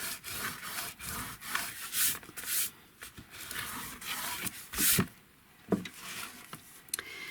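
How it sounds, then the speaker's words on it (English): A glue eraser rubs back and forth over paper or card in a split spine bookbinding project, producing close, scratchy strokes in uneven bursts with brief pauses. "here's our glue eraser again"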